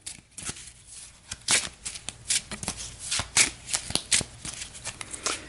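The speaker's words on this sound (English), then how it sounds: "Give this a shuffle." Playing cards are shuffled in a rapid series of crisp riffling bursts and flicks, close by and fairly quiet, with no talking.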